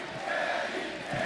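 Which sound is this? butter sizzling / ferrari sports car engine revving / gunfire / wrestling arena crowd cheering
wrestling arena crowd cheering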